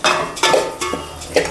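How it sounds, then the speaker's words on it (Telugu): Vermicelli frying in ghee in a pan for sheer khurma, with several loud, close metallic clanks and scrapes of a spoon against the pan in quick irregular strokes. "ఇప్పుడు సేమియా వేస్తున్నా నెయ్యిలో"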